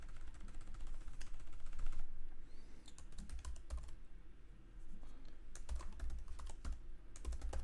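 Rapid typing on a computer keyboard, with steady clattering keystrokes in bursts and brief pauses, close and fairly quiet.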